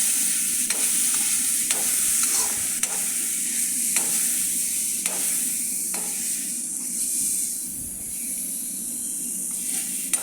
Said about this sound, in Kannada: ಇದನ್ನು ಫ್ರೈಗೆ ಹಾಕಬೇಕು ತವಾಗೆ.